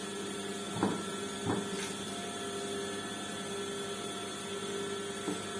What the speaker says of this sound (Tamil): இப்ப இதுல நம்ம மேல ஒரு அமுத்து தையல் போட்டுக்கோம்